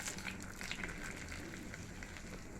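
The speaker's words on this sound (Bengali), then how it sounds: "এবার সুজিগুলো ফ্রাই করে নিচ্ছি" Semolina frying over a low flame in a pan with oil, black cumin, fennel, fenugreek and bay leaves, giving a faint, steady, crackling sizzle throughout, with no voice heard.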